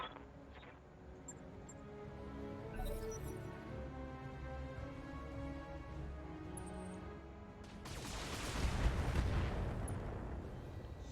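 Sniper turrets fire in a BattleTech mech battle, a low rumbling drone building to a loud, heavy blast near the end, with no talking over it.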